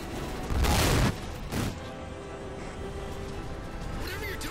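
Gunfire in the Halo 4 shooter game: a loud burst of shots lasting about half a second, then a second shorter burst, followed by lower combat noise.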